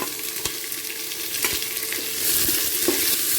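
Chopped onions fry in oil with halved dried red chillies and five-spice in a pan, a steady close sizzle with occasional stirring clicks and no talking.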